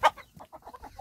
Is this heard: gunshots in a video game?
no